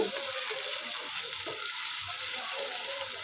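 Potatoes fry in oil with a continuous, close sizzle and crackle, with occasional faint stirring under it.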